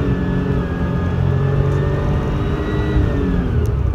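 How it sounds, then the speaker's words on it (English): A Porsche 911 Turbo from the 1990s accelerating at full throttle, its engine a steady, loud, close drone with a slowly rising whine and no speech. "you jam down the throttle, you're not making a crazy amount of noise"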